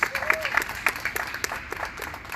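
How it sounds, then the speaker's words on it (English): Audience applause at a manufacturing training program graduation ceremony, a moderate round of clapping from a modest crowd with distinct individual claps standing out and a faint voice briefly audible. "So let's clap it up for Julian in his absence."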